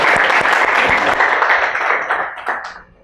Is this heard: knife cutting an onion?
no